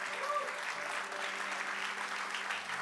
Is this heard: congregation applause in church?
yes